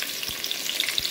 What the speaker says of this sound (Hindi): ऑयल मेरा गर्म हो गया तो इसमें मैं डाल रही हूँ सबसे पहले प्याज।